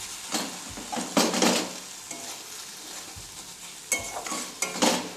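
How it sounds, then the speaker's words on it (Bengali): Spices for a bata fish curry fry in a pan, giving a continuous sizzle with repeated scraping stirs of a utensil against the metal, close and moderately loud, with no voice. "মশলাগুলো দিয়ে এইভাবে কিছুক্ষণ ভাজবো।"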